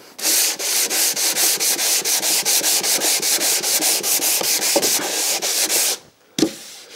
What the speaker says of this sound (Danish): Så det sidste stykke, det tager jeg lige med sandpapir.